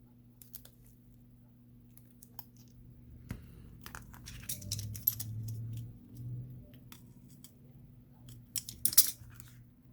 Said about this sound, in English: Then I will use this cutter, and I will cut this.